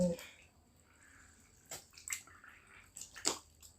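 A wet sponge kneaded in a container of water for sowing hydroponic vegetable seeds, giving close soft squelches and watery splashes in a few short bursts, fairly quiet, with no talking.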